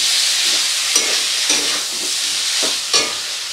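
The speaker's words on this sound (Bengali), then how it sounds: "ঘিটা দিয়ে হালকা নেড়ে চেড়ে এবারে এটা নামিয়ে নেব আমি" Drumstick curry is stirred in a hot pan after ghee goes in, a continuous sizzle broken by a few sharp spoon scrapes against the pan.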